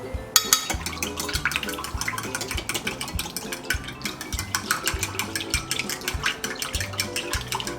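A spoon clinks and scrapes steadily inside a small measuring cup while drink powder mix is stirred, light rapid tapping repeated without pause at close range.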